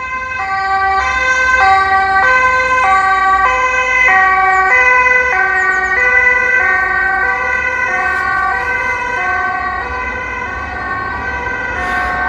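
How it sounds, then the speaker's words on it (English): An emergency vehicle siren passes a road junction outside a house on its way to a hospital, a loud, steady two-tone wail that rises and falls repeatedly and stays close throughout, with no voices. "all the emergency service traffic to the hospital"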